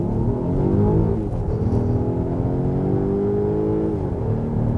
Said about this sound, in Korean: 지금 파워 모드에서 급가속을 한번 해보도록 하겠습니다